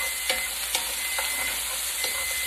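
Vegetables sauteing in a tablespoon of oil in a pan give a steady, close sizzle, with a few sharp stirring clicks and scrapes scattered through it and no talking.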